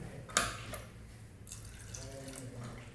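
Water poured into a pot of green peas curry in a home kitchen, a steady splashing pour with a sharp splash near the start, close and fairly quiet, with no talking.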